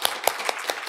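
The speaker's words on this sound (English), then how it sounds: "round of applause." A few people clap sparsely after an academic presentation at a university digital humanities conference, with roughly four or five distinct, fairly close claps in under a second and little else.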